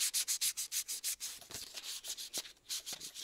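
Sandpaper of 800 grit rubs back and forth over a primed surface in quick, regular strokes, close by and soft. The rhythm slows and becomes uneven toward the end.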